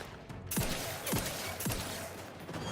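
Gunfire in the video game Outer Worlds, three distinct shots about half a second apart over a busy, dense background of combat noise, with no speech.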